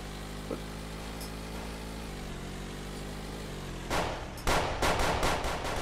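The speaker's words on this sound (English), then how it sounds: "God damn, he shot his tires." Gunshots fired at a car's tires: a rapid burst of several sharp cracks over a steady engine drone, following a few seconds of idling hum.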